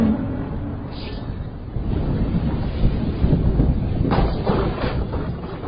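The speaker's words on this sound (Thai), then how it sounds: "ลมพายุพัดแรง ใบไม้ปลิวกระจายไปทั่วทิศ" Storm wind effect in a narrated folk tale: a steady, fairly loud low rushing roar lasting several seconds, with a few brief hissing gusts rising over it, no voice present.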